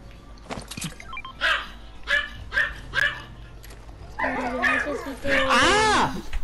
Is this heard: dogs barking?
yes